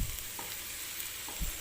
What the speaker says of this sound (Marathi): तर हे बघा मी छान असं मिक्स करून घेतलं.